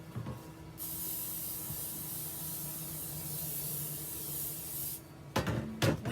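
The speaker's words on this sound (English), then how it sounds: "I'm going to spray the pan" Cooking spray is sprayed onto a baking pan for box oven monkey bread, a single continuous hiss of about four seconds followed by brief clatter of handling the pan.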